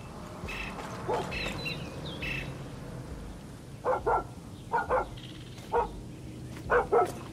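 A dog in Far Cry 6 lets out a run of short, sharp barks in pairs and singles over steady ambient game noise, moderately close and fairly loud.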